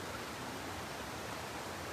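A small waterfall on a Konkan trek route rushes in a steady, even broadband wash, with no voices over it.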